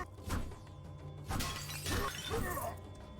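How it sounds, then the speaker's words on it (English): Several crashing, shattering smashes of clay pots breaking in the action video game Children of Morta, bursts arriving in quick irregular succession amid game sounds. "I swear that is the same pot-breaking sound effect."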